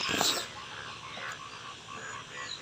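After summer rain in Mymensingh, Bangladesh, frogs keep up a faint chorus of overlapping croaks, with a brief louder rustle at the start.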